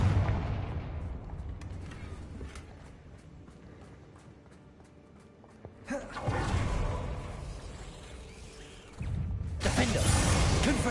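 Rumbling magical blasts and whooshing bursts from the Confringo fire spell in Hogwarts Legacy, a heavy boom near six seconds and another near nine, over dense game ambience and clicking effects.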